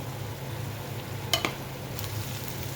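Food stir-frying in a pan gives a soft, continuous sizzle with a low hum beneath, broken by a couple of brief utensil taps near the middle.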